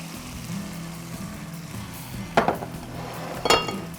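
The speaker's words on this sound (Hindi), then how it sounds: "3 टेबल स्पून ऑफ मैंने इसके अंदर वाटर ऐड किया है" A small splash of water, about three tablespoons, goes into cooking masala in a pan, giving two brief sharp sizzling hisses over a low kitchen background.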